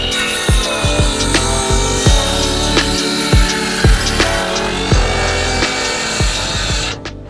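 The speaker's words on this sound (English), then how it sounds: "take the saw up here and saw off the tops of these things, these posts." Hand saw cutting through the tops of wooden posts on a box blind frame built from an old tobacco trailer, giving a loud, steady run of rasping strokes with sharp repeated bursts, close up and without talk.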